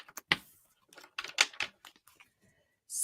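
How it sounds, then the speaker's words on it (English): Tarot cards get a sloppy shuffle, with irregular flutters, soft slaps and snaps in uneven bursts separated by short quiet gaps. "Ah, sloppy shuffle."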